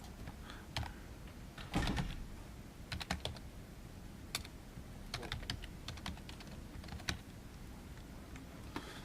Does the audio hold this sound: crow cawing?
no